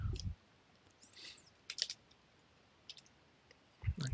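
Sparse clicks from computer keyboard typing while writing C# code come in short, quiet bursts separated by near-silence, and a voice speaks briefly at the start and end.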